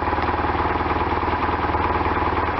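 A 1998 BMW R1100RT motorcycle engine, freshly tuned at the throttle bodies, idles steadily at about 1000 RPM, a close, continuous low throb with an even pulsing rhythm and no talk.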